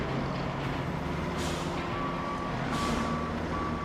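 A truck engine rumbles steadily in the video game RoadCraft while a high reversing beeper repeats at a regular pace, with a brief hiss of air brakes.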